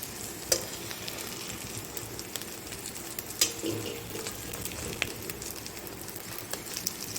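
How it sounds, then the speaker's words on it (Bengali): Fish and potato pieces fry in oil, a quiet steady sizzle broken by a few clinks as pieces are stirred and lifted, with no talk. "সবগুলোই লাল লাল করে ভাজা হয়ে গেছে,"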